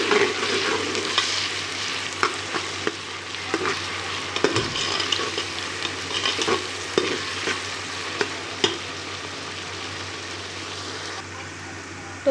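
Garlic added to onions that have turned light pink, frying in a pan for keema with chana dal, a steady close sizzle with scattered stirring scrapes and clicks throughout, no talking.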